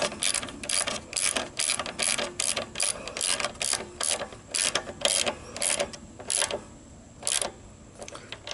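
A ratchet tightens bolts on an old log splitter, giving quick runs of close, crisp clicks in short repeated strokes that pause briefly near the end before a final few pulls.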